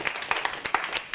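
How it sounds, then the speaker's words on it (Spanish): A church congregation gives a few scattered claps, sharp and close, spread irregularly over a brief moment. "Demos un aplauso al Señor,"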